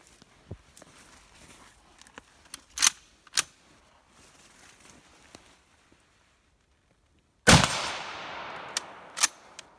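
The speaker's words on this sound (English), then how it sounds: "Let's shoot 5 more." Shots from a WW1 Imperial Russian Mosin Nagant M91 rifle fired outdoors: several sharp, loud cracks spaced a few seconds apart, one followed by a long rolling echo, between quieter clicks and handling noises.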